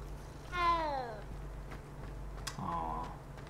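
A cat in Hogwarts Legacy meows twice, a longer rising-falling call followed by a shorter one, clear but fairly soft against a low steady hum.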